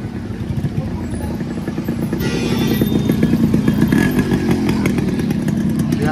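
An original, unmodified Yamaha RX 100 two-stroke motorcycle on a test ride gives a buzzy, rattling engine drone that swells louder around the middle and stays strong to the end, with faint voices in the background.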